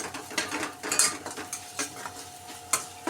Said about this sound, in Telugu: వేసుకొని కొద్దిగా ఫ్రై చేసుకుందాం